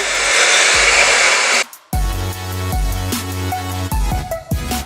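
A handheld hair dryer blows loudly and steadily while drying hair, cuts out briefly, then restarts with a rougher whirring tone and changing pitch as it is moved around.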